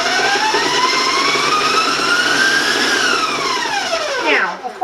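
An electric mixer creams butter and granulated sugar for eggless chocolate chip cookie dough, a loud close whine whose pitch rises steadily, levels off, then drops sharply as the motor slows at the end.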